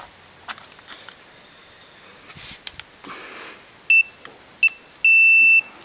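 A multimeter gives sharp electronic continuity beeps while a battery cell is tested: two short beeps, then one longer sustained tone, over faint handling noise and no speech.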